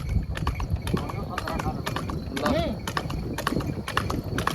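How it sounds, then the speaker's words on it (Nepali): Horse hooves clip-clop in a steady, brisk trotting rhythm on a hard surface in Sauraha, Nepal, close by, with people talking over the hoofbeats. "तपाईँले घोडा दौडाउन लाग्यो"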